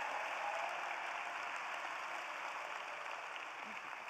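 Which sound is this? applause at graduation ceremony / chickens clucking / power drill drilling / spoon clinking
applause at graduation ceremony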